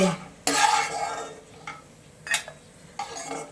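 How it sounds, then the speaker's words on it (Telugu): Fried nuts being scooped out of a pan into a separate bowl: a few sharp metallic scrapes and clinks of a spoon against cookware, with quiet gaps between them. "సో సపరేట్ బౌల్లోకి తీసేస్తున్నాను"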